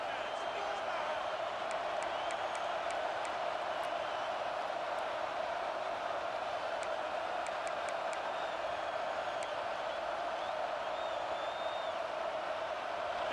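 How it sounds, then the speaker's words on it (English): A stadium crowd in the EA Sports College Football 26 video game roars steadily for the whole stretch, a dense, continuous wash of cheering with faint whistles on top and no voices standing out. "with this place rocking, the crowd forces a false start"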